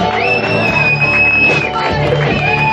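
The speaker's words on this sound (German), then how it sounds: "Kleiner Schlagzeuger, kleiner Applaus, ja?" A concert crowd cheers loudly for a drummer, with whoops, shouts and whistles rising over a dense roar of voices close by.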